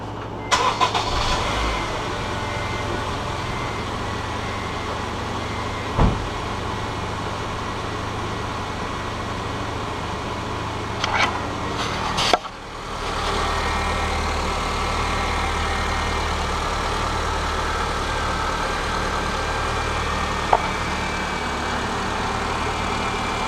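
A 2007 Honda Civic EX engine, freshly fitted with a new valve cover gasket, cranks and catches, then settles into a steady, even idle heard up close, with a few light clicks and knocks around it.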